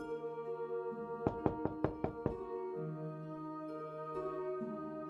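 Knocking on a locked flat door in the point-and-click adventure game Mudlarks: six quick, sharp raps in a steady burst over a quiet musical background.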